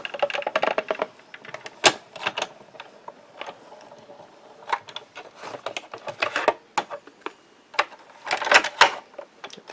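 A hot foil stamping machine feeds paper through with a busy run of clicking, clacking mechanical strikes in irregular bursts, close and moderately loud.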